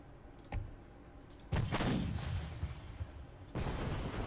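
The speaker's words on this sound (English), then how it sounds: "So, the howitzer can fire on the men." Howitzer artillery fire in a World War I strategy game set in East Prussia, 1914: a few sharp reports, then two heavy booming blasts with long rumbling decay, moderately loud and with no talk.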